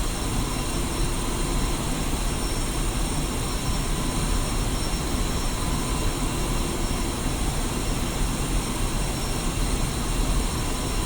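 Steady, loud jet engine roar from an aircraft taxiing in the DCS flight simulator game, a constant whine and rumble throughout with no talking.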